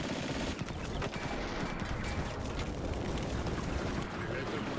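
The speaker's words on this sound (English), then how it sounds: "bullets are flying" Gunfire in the WWII strategy game Combat Mission: Barbarossa to Berlin, with dense rattling bursts and scattered shots under a steady wash of battlefield noise, continuous throughout, while someone talks over it.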